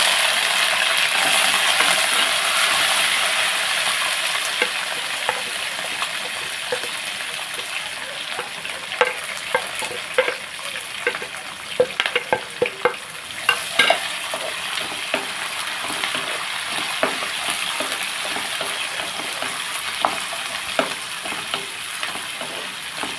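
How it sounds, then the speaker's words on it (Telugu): Spice tempering for red wheat upma crackles and sizzles in hot oil while being stirred, with scattered sharp pops and seed crackles through a steady, moderately loud frying hiss, no voices. "పోపులు ఇస్తాము"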